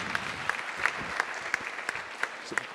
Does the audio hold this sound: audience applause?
yes